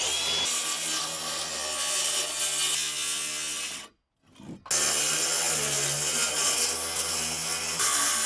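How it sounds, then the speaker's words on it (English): A saw cuts through wall sheathing on a DIY cabin to open a window, with a loud, steady rasping stroke close by, briefly stopping for a moment before resuming the same continuous cut. "I'm cutting this off because that's the start of the window opening"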